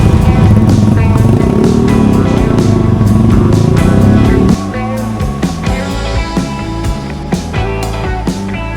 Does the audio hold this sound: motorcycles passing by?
yes